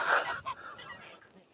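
A goose on a farm gives a loud honk up close, followed by a few softer, trailing calls that fade away.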